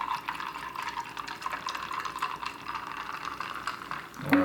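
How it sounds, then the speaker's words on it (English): Coca-Cola is poured into a glass over ice, giving a continuous close fizzing and trickling splash. A brief clink sounds near the end. "All right, and we will pour our Coke."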